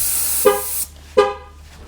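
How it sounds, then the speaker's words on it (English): A 2011 Chevy Impala's horn gives two short, loud honks close by, separated by a brief pause. "honk, honk."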